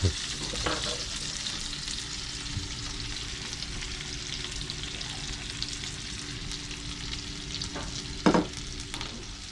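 Fish grilling over heat on a coastal Kenyan cookout, a continuous loud sizzle and crackle running throughout, with a few brief clatters near the end as it is turned.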